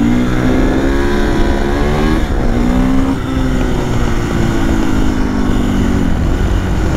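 Mopeds revving at an informal off-road riding spot, loud buzzing two-stroke engines rising and falling in pitch as they accelerate and ease off, several overlapping, continuous throughout without speech.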